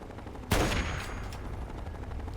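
Gunfire in the video game Fallout 3: a single sharp loud shot at about half a second, followed by a lingering noisy tail and faint further impacts in the game's ambience.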